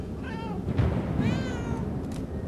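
Cat meowing in the video game Murdered: Soul Suspect, two or three short rising-falling meows close by over a low background hum, with no talk.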